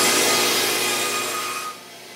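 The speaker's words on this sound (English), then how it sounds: "So I'll rip that to size here on the bandsaw" A bandsaw rips kerfed lining stock for a tenor guitar, giving a loud, steady buzzing cut that fades as the blade clears the wood, close up, with no speech.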